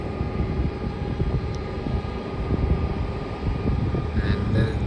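A Boeing 737 airliner bound for Sydney takes off at night, heard as a steady, broad jet roar from a distance that holds throughout with little change.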